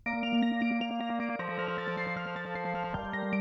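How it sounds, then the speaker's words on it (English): Layered synth pad chords in a pop production with celesta-like bell tones and a thin, needly synth line behind, sustained harmonic chords shifting twice over steady even loudness, no voices. "Just some synth pad chords,"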